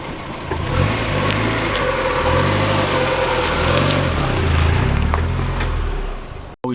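Mazda Miata engine running close by just after a restart, a steady mid-pitched idle drone with slight rhythmic pulsing throughout, cutting off abruptly at the end.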